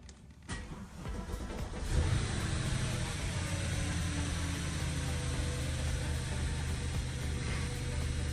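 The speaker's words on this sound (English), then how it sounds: "Let's start up the car." An Audi A8 engine with a coolant leak cranks briefly, catches, and settles into a steady close idle with a constant fan-like hum.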